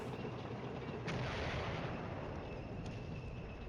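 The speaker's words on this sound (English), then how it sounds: "Artillery falling." Artillery fire in the Cold War strategy game Flashpoint Campaigns: Cold War, heard as a low, rumbling barrage under a steady hiss, with a faint sharp crack near the start and another burst right at the end.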